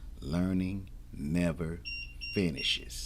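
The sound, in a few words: alarm going off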